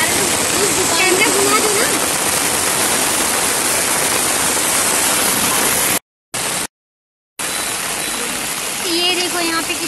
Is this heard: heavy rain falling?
yes